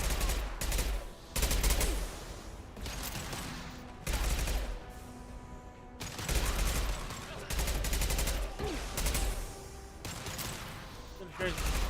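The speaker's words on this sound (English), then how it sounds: "Firing concussive shots!" Concussive shot gunfire in the video game Mass Effect Legendary Edition: loud, dense bursts of shooting and blasts in rapid fusillades, with brief lulls between bursts.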